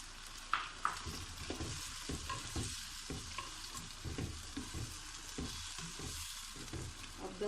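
Cumin, garam masala and coriander fry in oil for chole, a steady close sizzle broken by repeated scraping strokes of a spoon stirring the pan, with no talking.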